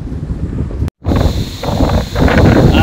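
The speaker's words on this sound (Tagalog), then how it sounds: "Ganito po palakas ng hangin." Strong wind roaring across a beach campsite at Kasapsapan Beach Resort, loud and constant with a brief dropout before the gusts return even stronger.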